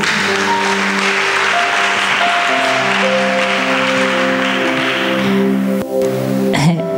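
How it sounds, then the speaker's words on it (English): Sustained applause from a church congregation clapping for the women of the congregation, loud and continuous over held music tones, with cheering rising near the end. "Somebody clap for my ladies."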